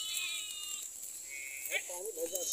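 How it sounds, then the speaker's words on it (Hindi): A flock of sheep bleats in a village field, several wavering calls rising toward the end, faint and somewhat distant, with someone speaking over them. "कितनी सारी भेड़ें"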